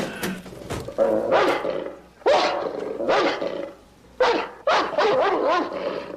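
A mean Doberman barks close and loud in repeated bursts of two or three deep, rough woofs, with short gaps between volleys and no talk over it.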